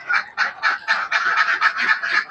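Laying ducks in a farm pen, a rapid run of about ten loud, close quacks and honks crowding one another without pause.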